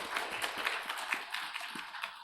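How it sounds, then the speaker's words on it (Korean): A church congregation claps together during a Sunday worship service, a quick, fairly quiet patter of hands with soft rhythmic accents throughout. "하나님께 영광의 박수를 올려드리겠습니다."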